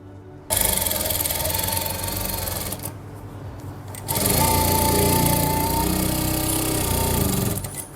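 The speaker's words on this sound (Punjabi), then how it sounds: "ਉਸ ਤੋਂ ਬਾਅਦ ਤੁਸੀਂ ਸਲਾਈ ਲਾ ਲੈਣੀ ਸਲਾਈ ਤੁਸੀਂ ਇੱਥੇ ਤੱਕ ਲੈ ਕੇ ਆਉਣੀ ਆ" A sewing machine stitches the neckline of a suit in two rapid, rattling runs of needle strokes, nearby and loud, split by a short pause for repositioning.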